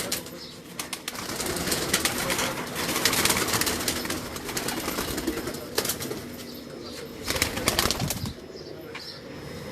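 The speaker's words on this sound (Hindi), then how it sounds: "ये इनके ब्रीडर कबूतर हैं जो उनसे मैं आपको दिखा रहा हूँ" Breeder pigeons at a rooftop loft, with soft cooing and repeated bursts of wing flapping close by, steady throughout and without speech.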